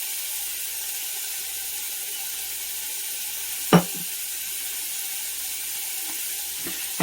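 Ground beef and onion fry in oil in a skillet, a steady broad sizzle that holds evenly throughout, broken by one sharp utensil knock midway and a faint clink near the end.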